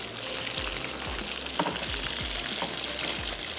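Fish pieces fry in a pan until golden, giving a dense, even sizzle close up with a few faint clicks of the utensil underneath and no voices.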